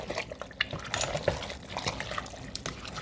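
Homemade chili stirred in a pot over medium-high heat, a wet, thick scraping and sloshing that comes in irregular bursts with small clinks.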